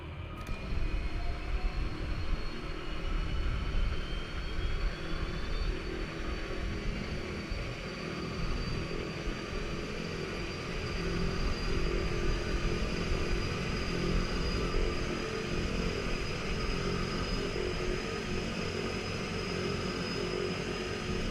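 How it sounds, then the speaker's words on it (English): An EMB-110 turboprop engine spools up in Microsoft Flight Simulator, a steady loud whine and broad roar holding for about twenty seconds with a rising high tone and no speech. "sounds like we have a good clean start of engine number 2"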